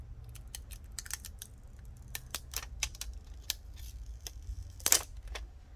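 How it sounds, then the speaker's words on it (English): Plastic film is peeled off the adhesive during a phone screen and battery repair, giving a string of sharp, dry crackles and clicks at close range in a quiet room. "now I can remove the plastic that is covering the adhesive."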